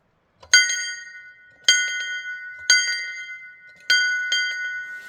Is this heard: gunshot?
no